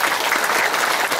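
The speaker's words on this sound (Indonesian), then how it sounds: "Tepuk tangan dong." Steady, dense clapping from an audience at a religious talk, loud and continuous throughout without breaks.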